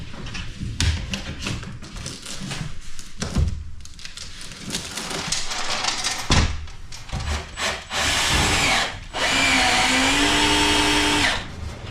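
Power tool work inside an enclosed trailer while screwing up wall panels and shelves, with clattering handling noises followed by a loud, sustained whirring run near the end, close by.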